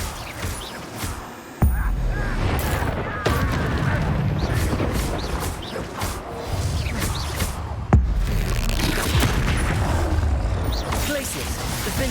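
Bombarda spell blasts in Hogwarts Legacy: a couple of sharp booming impacts land amid ongoing game noise and effects, with a voice talking over them.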